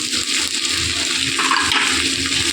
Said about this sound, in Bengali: এবার চিংড়ি মাছগুলো দিয়ে দিলাম